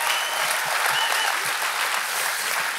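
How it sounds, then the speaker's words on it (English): A church congregation claps and cheers in a dense, loud burst that stays even for the whole moment, many hands blending into a continuous roar. "Give the Lord a clap and a shout for that."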